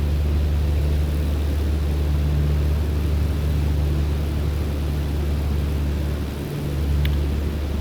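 A propeller airplane engine in Microsoft Flight Simulator 2020 holds a steady, loud low drone throughout, with a brief dip near the end and no voices.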